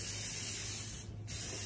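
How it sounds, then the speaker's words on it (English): Canola oil sprayed from a can onto a 9 by 13 inch glass baking pan, a steady close hiss of about a second and a half with a brief dip partway through. "you spray your pan with canola oil"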